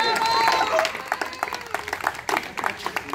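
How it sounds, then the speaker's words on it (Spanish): Guests at a baby shower clap along to a song, scattered and uneven hand claps mixed with voices and cheering over quiet music. "Lo que tienen que hacer es aplaudir al ritmo de esta canción."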